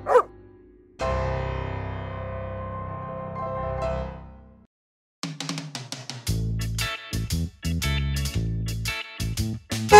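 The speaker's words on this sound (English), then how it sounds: "Dog." A dog barks in a quick series of sharp, close yips in the second half, following a brief chime and a sustained musical tone, with no voices.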